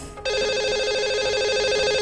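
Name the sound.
telephone ringing as a call is placed to a caller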